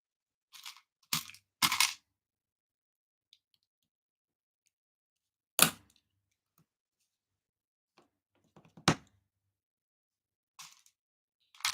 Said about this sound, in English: must be munching on his Jaffa cakes